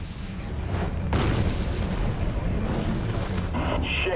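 Explosions in the Prototype 2 video game as two Hydras are killed: a loud sustained booming rumble with a sharp blast onset, followed by crackling debris and bursts, no talk.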